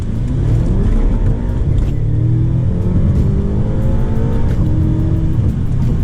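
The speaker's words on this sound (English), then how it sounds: "You can definitely feel when those twin turbos kick in and it just pushes you right back in your seat and you are flying." A 2013 BMW M5 with its twin-turbo V8 pulls hard under full acceleration, the engine drone rising steadily in pitch through the gear as a loud, continuous roar heard from inside the car.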